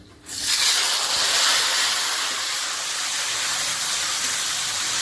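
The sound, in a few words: chopped tomato added to hot pan, sizzling, for aloo dum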